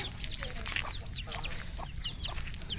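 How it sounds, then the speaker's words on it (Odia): A silkie chicken on a small farm clucks softly and repeatedly at close range over low background noise. "ଏ ସିଲ୍କି କୁକୁଡ଼ା ରହିଛି।"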